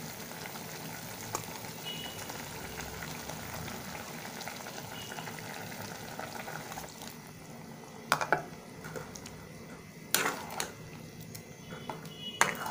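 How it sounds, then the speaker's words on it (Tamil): Tamarind water simmers with bitter gourd pieces for a curry, bubbling steadily at close range, followed by a few sharp clinks of utensils toward the end. "காய் வந்து புளி தண்ணியோடு சேர்த்து நல்லா கொதித்து வரட்டும்."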